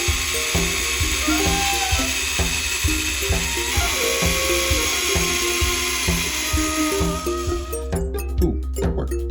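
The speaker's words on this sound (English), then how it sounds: "I was gonna have to drill out some rivets" A power drill whines continuously with repeated rattling, ratcheting bursts as it drills out rivets on a LEGO store display, close and loud throughout.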